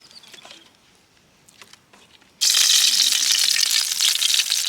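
Mirchi bajji dropped into hot oil: after some faint clinks and light handling noises, a loud, steady sizzling bursts in and keeps crackling evenly up close.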